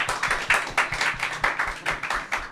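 A small live audience claps at a public recording of a comedy show, a fairly quiet and sparse run of distinct, rhythmic hand claps repeating steadily for a couple of seconds.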